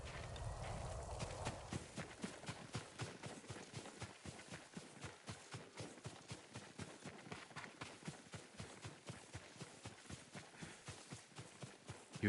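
Horse hooves clip-clop in steady, even rhythm in the Ghost of Tsushima video game, the footfalls fairly close and continuing throughout after a brief windy opening, with no talk.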